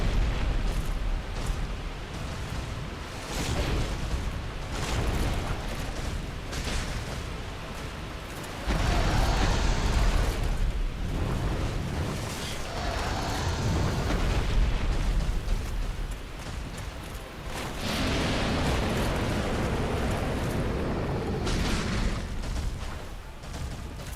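A boss's fire breath attack in Dark Souls Remastered roars as a loud, sustained blast with rumbling bursts that swell and fade several times over a steady, dense roar, with no voices.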